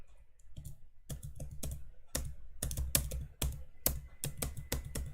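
A computer keyboard spacebar tapped in rhythm to time a karaoke song gives crisp, close clicks in irregular bursts and quick clusters, with short gaps in between and no voices.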